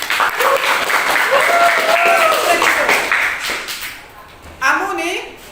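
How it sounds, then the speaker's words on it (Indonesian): Students clapping in a classroom during a teacher training assessment, a loud burst of applause under overlapping voices that fades after about four seconds, then a brief spoken phrase. "tepuk tangan"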